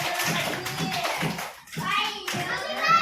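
Children in a classroom clap their hands together, rapid uneven clapping mixed with young voices chattering, pausing briefly before starting up again.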